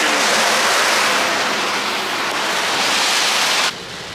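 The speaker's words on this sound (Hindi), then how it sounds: "नॉन स्टॉप बारिश हो रही है।" Heavy, nonstop rain pours around a car driving on the road from Ramnagar to Delhi, a dense steady hiss that fills the cabin and cuts off abruptly near the end.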